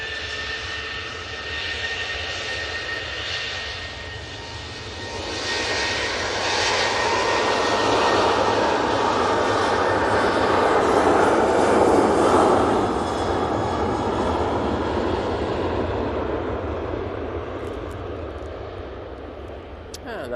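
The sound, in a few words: Boeing 737 jet taking off at Manchester Airport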